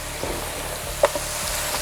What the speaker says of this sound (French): ça mijote comme il faut, ça frémit.